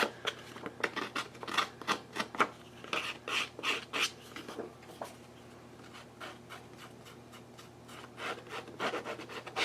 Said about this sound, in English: I like these little Fiskars scissors.